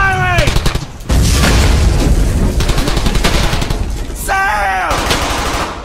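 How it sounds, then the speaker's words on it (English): Gunfire in the World War II shooter game Brothers in Arms: Hell's Highway, loud rapid bursts of rifle and machine-gun fire hammering continuously, with a shouted voice cutting in at the start and again near the end. "Don't stop firing!"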